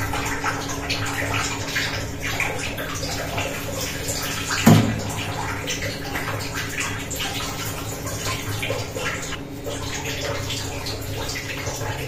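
Potatoes being washed in a pot of water that has turned cloudy white, heard as a continuous close sloshing and splashing with one brief louder splash midway and a faint background hum.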